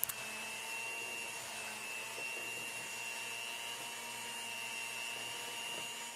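An electric mixer runs steadily, blending two blocks of cream cheese into cheesecake batter for a strawberry cheesecake with graham cracker crust. The motor holds a constant whine without a break, and no one talks over it.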